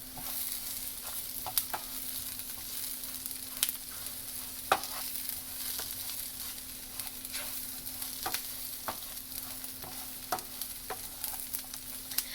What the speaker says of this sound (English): Now we're going to mix it all together.